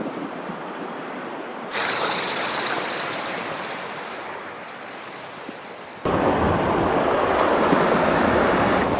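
A rushing mountain river in the New Zealand alps, loud broadband roar of fast water close by, steady throughout and swelling louder in the last few seconds, with no voices.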